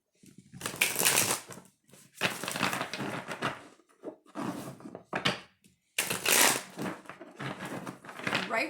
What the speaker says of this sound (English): Right when I started shuffling the deck,